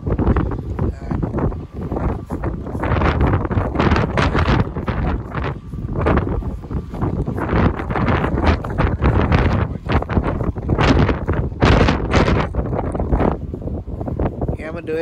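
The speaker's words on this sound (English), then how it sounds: "it is so windy" Strong outdoor wind buffets the microphone continuously at a homestead, with loud gusting roar and rustle throughout and bursts of speech-like noise mixed in.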